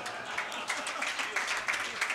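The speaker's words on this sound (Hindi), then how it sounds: "देखो, आपने ताली बजा दी" Applause from the audience at a Hindi comedy poetry gathering, a soft, even patter of many hands clapping, somewhat distant, with a voice faintly present beneath it.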